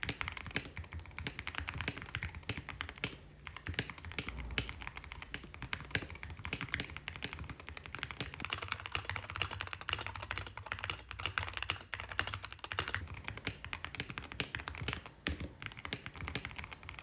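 Steady, rapid typing on a mechanical gaming keyboard runs throughout, a dense stream of close, crisp keystroke clicks and clacks at an even pace with no talking.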